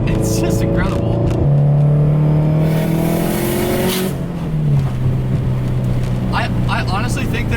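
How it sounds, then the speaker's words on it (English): A Subaru STI with an external wastegate and loud exhaust revs hard through short gears, its engine note climbing and shifting between sustained pulls, with a person talking over part of it. "with the external wastegate screaming at you, short gears, that exhaust"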